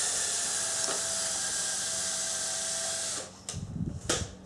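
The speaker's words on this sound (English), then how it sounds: "Sounds like my drill's giving up the fight" A high-pitched power drill whines steadily while mounting camper trailer siding, then cuts out and gives a few short, labored bursts as it bogs down.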